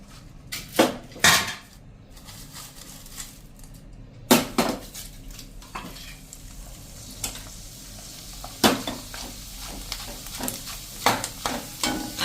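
Potato khaman frying in hot oil over a slow to medium flame, a steady soft sizzle punctuated by several sharp scrapes and clanks of a utensil stirring in the pan, close and moderately loud.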